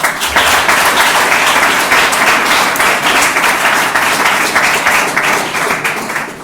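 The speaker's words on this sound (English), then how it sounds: "Well, please clap for them." Audience applause for a junior high school team at an inter-school quiz competition, a loud, dense burst of many hands clapping that holds steady for the whole stretch with no one talking over it.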